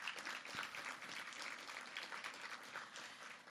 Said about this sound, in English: Can we give Dr. Ryan Valinga another round of applause, please?